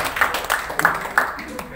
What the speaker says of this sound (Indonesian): tepuk tangan sih sekalian